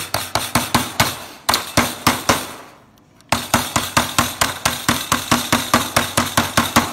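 Rapid, rhythmic hammer blows bending over a metal clip on a honeybee queen excluder ring out close and loud, pausing briefly once before the steady striking resumes.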